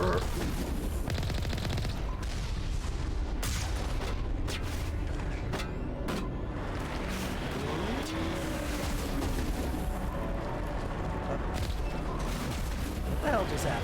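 A big cannon fires in the Mass Effect video game amid a dense, continuous barrage of booming gunfire and sharp repeated cracks, loud throughout, with a voice talking over it.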